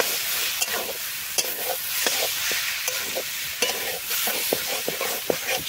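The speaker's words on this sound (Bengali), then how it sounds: "কষিয়ে নেবো এঁচড়টাও সাথে।" Jackfruit being sautéed with masala in a pan: a steady hiss of sizzling oil broken by repeated sharp scrapes and taps of a spatula stirring, close and with no voices.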